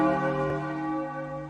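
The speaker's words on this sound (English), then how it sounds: "We take a little boat by ringing this bell." A single cartoon bell rung to summon a little boat in a Peppa Pig scene strikes once and rings out with a bright, sustained metallic tone that slowly fades over about a second and a half.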